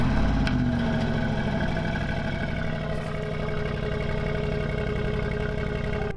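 A Bentley Bentayga SUV with a 550 hp engine moves off at Munich Airport, its engine a smooth, steady, close hum with a low drone rising slightly as it pulls away, no voices.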